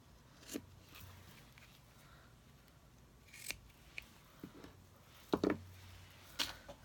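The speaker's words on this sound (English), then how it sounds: "And then I'm going to take my scissors and clip this off." A few sharp scissor snips through thread, close and quiet, spaced apart with stillness between cuts and a cluster of clicks toward the end.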